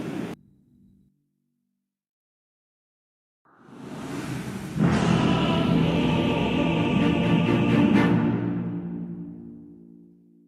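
Storm thunder in Dota 2 arrives as a brief crack, then after a pause a deep rumbling roll swells into a loud, sustained roar before slowly fading out.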